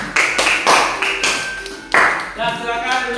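A classroom of students claps for a short spell, with uneven, close handclaps rising and falling and some voices mixed in.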